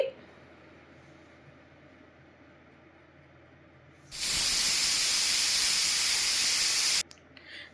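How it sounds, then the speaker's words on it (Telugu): A pressure cooker on a gas stove cooking dal with ganga vayala greens lets out a loud, steady steam hiss for about three seconds, starting abruptly and cutting off sharply, after a quiet kitchen background. "ఎనిమిది విజిల్లు వచ్చిన తర్వాత కుక్కర్ ఆఫ్ చేసి"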